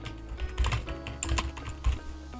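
Rapid typing on a computer keyboard fills the clip with a dense, uneven clatter of close keystrokes as a key name is entered, with a few louder thumps from harder presses.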